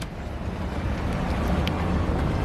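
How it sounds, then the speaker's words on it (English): A steady, dense roar of engine and rushing water as a motorboat approaches at full speed nearby, with wind buffeting the microphone throughout. "this stupid boat coming in full speed, honking everyone around"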